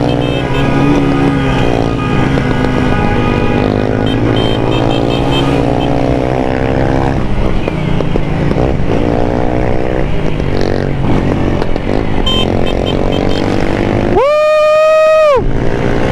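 A brand-new Honda Rebel 250cc Special Edition motorcycle ridden in second gear, its engine holding a loud, steady droning tone throughout, with a brief rising whine near the end.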